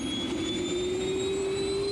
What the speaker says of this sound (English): As suddenly as it had died, Engine 4 came back to life.